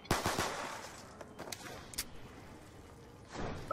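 Rapid bursts of fire from a 5.7 gun in a zombies video game, a quick volley of sharp shots at the start, then scattered single cracks and a final loud shot, with no speech.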